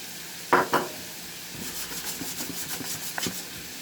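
Marinated moose meat with fresh chives sizzles in a pan after two sharp scraping stirs. The frying then carries on softly and steadily nearby.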